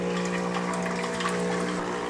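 A Tuni E2 espresso machine pumps water through its system in a flush, a steady loud mechanical hum with running, gushing water that continues unbroken throughout, with no talk.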